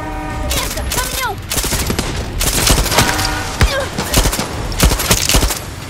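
Dense bursts of gunfire and rattling automatic weapons in a Far Cry 6 firefight, loud and close, with alarm-like tones sounding in the background and voices talking at times.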